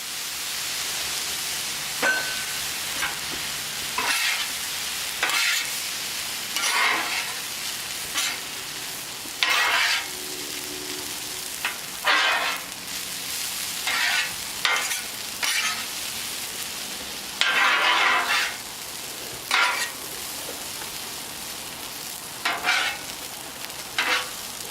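Chicken fried rice with soy sauce sizzles and crackles on a teppanyaki griddle, a steady frying hiss broken by repeated bursts of louder spattering as the rice is stirred and tossed, close and with no talk.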